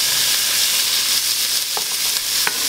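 Diced onions and carrots sautéing in a pan, a loud, constant, close sizzle with a couple of soft stirring scrapes, no talking.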